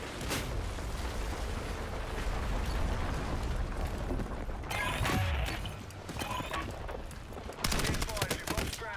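Gunfire rattles in the Battlefield 6 video game, dense bursts of shots and mechanical clatter with sharp cracks near the end, mixed with game noise.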